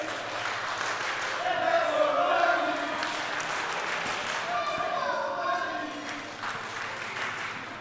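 Packed indoor crowd at the Willow Centre in Merthyr, a continuous roar of cheering and applause swelling and easing across the whole stretch, with voices mixed into the din.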